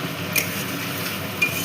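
Chopped tomato is stirred into a spiced chilli masala in a pan, a soft continuous sizzle with light scraping and a couple of faint utensil clinks, brief and close.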